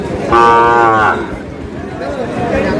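A Sahiwal bull calf, about eight to nine months old, gives one loud, close moo lasting under a second amid the background murmur of a busy cattle market.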